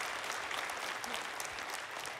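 Audience applause at a church assembly fills the space with steady, dense clapping that stays even and fairly distant throughout, with no voices standing out.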